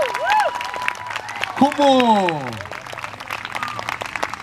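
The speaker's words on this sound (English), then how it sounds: "one more time, please, a big round of applause" Outdoor concert audience at Kona Nui Nights in Hawaii, applauding in a dense, steady patter of claps with a few whoops and sliding calls, while a voice speaks over the crowd.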